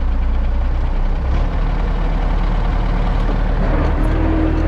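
An MTZ tractor engine runs loud and close, a heavy, rumbling diesel drone that holds steady with a brief dip as it pulls away, with no speech over it.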